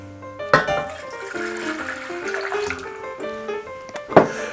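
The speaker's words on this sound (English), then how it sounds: "You're gonna take 2 cups of water." Two cups of water poured for a cinnamon stick and allulose keto sweetener syrup, a soft splashing, trickling stream with a couple of louder splashes at the start and end, no talking.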